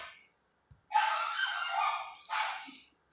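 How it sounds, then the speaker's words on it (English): A pet dog barks indoors, two short, faint bursts separated by a brief pause in an otherwise quiet room. "Sorry about my dog is barking."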